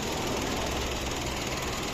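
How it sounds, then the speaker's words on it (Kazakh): A 2020 Kia Morning's engine idles steadily, a loud, even mechanical drone that holds constant without revving. "Мотору четко оталып турат."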